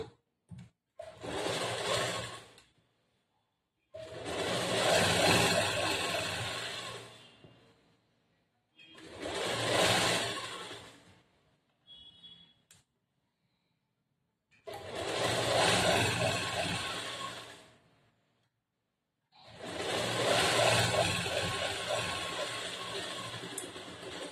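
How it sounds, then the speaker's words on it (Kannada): A sewing machine stitches a half-inch folded cloth hem for a plain blouse in five bursts of whirring, each running a few seconds with quiet gaps between, close and fairly loud. "ಫಸ್ಟ್ ಒಂದು ಅರ್ಧ ಇಂಚ್ ಅಷ್ಟು ಬಟ್ಟೆಗೆ ಮಡಚಿ ಒಂದ್ ಹೊಲಿಗೆ ಹಾಕೋಬೇಕು"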